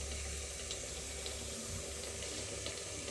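Water pours steadily into a pan of chicken curry on a full flame, a constant hissing splash with no break, close and fairly quiet.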